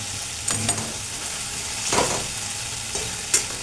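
Peas tipped into a pan of simmering potato curry with green mung beans, a soft sizzle running throughout, broken by a few brief clattering stirs and splashes, including a louder one near the middle.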